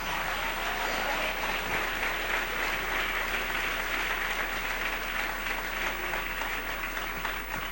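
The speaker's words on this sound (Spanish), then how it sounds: "Dale un aplauso al Rey en esta noche." A church congregation claps loudly and steadily for several seconds in a broad wash of applause at a Spanish-language evening service.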